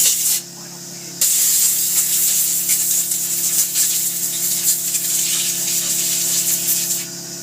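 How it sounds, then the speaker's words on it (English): Close, loud hiss of a compressed air gun blowing air to clean a reed, with short gaps and bursts as the blast is pulsed and moved across the part. "I will take my compressed air gun and start doing the final cleaning"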